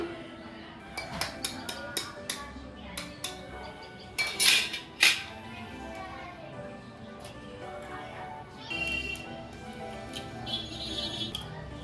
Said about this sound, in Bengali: সব সবজিগুলোকে আমি দিয়ে দিয়েছি এখন ডিমটাকে ফাটিয়ে দিয়ে দিচ্ছি